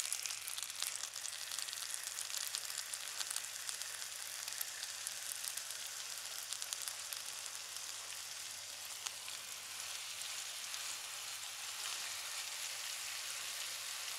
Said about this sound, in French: Et on va en fait frire ça.